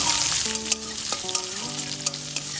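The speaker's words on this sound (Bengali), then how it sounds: "পেঁয়াজটাকেও ভালোভাবে ভেজে নেব" Chopped onion fries in hot oil with spices for a home-style Bengali ridge gourd malaikari, giving a steady close sizzle with a few light stirring clicks and a soft melodic tone underneath.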